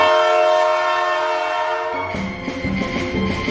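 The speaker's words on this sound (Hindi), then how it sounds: "उसके साथ ही एक गूंजती हुई सीटी की आवाज सुनाई दी।" A train whistle sounds, a long, loud, sustained horn tone that cuts off after about two seconds into echoing rail rumble and rattling carriage noise.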